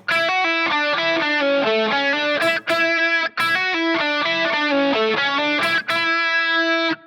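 A distorted electric guitar plays a song melody as a steady line of single notes, loud and close, with brief pauses between phrases.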